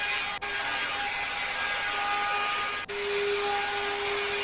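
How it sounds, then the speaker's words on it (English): Wood router rounding over the top edge of a liquor cabinet with a built-in humidor, a steady high-pitched whine held close and loud throughout, briefly dipping twice. "using the router here, just put another little round over on the top."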